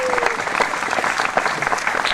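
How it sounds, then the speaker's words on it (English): A crowd at a mayoral inauguration ceremony applauds a newly elected mayor, steady close-packed clapping throughout with a brief voice at the start. "Let's have a big round of applause for him"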